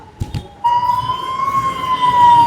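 Fire engine siren wailing steadily at a Mahashivratri temple fair at Ambernath Shiv Mandir, loud and close, rising in after a brief faint start and holding a continuous tone.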